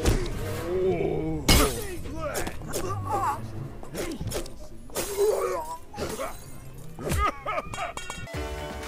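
In the video game Fallen Aces, glass shatters with a loud, sudden crash, followed later by further smashing and tinkling breaks, amid grunts, scuffles and voices.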